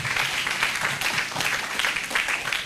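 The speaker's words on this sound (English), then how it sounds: "You won't even let me land, you are clapping" Audience applause fills a hall at a university summit, a steady dense wash of many hands clapping with scattered brighter claps, loud and continuous from start to end.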